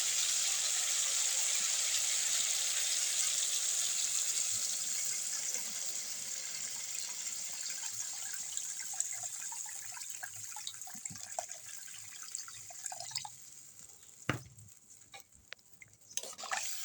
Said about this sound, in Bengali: এবার দিয়ে দেব ঝোলের জন্য জল।